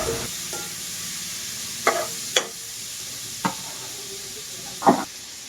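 Shrimp being stirred in a frying pan, a steady close sizzle with a few sharp clinks and scrapes of the spoon against the pan at irregular moments, no talk.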